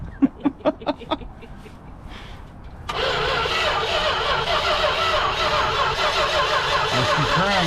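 An International 440 tractor engine cranks with several rhythmic starter turns, pauses, then catches and runs steadily at a loud idle close by, with faint voices in the background.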